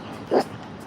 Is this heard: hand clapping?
no